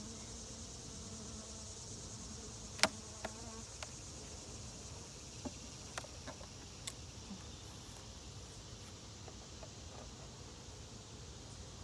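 A low, steady buzz of honey bees humming in a sparsely populated hive with small hive beetles, during a hive inspection, with a few sharp clicks and taps scattered over the drone.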